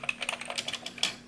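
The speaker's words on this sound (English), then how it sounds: "There's the keyboard." Keys on a Commodore 128 home computer keyboard clack in a quick, uneven burst of close, light presses, with no voices.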